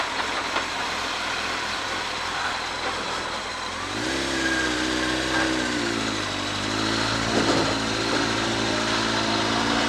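A Honda Fireblade motorcycle engine runs steadily and close by, its tone shifting up in pitch partway through as the revs rise and then settle into a sustained mid-range drone.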